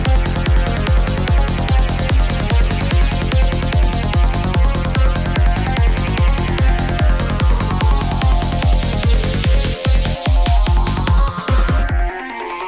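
Layered psytrance synth arpeggios built from saw waves, with fast, loud rhythmic pulses and a bright, dense mid-range played continuously with no voices.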